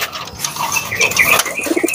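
A pigeon coos loudly and close up, a short burst of throaty, warbling calls with some rustling around it.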